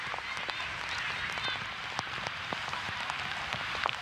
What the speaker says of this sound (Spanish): Y la lluvia es incesante.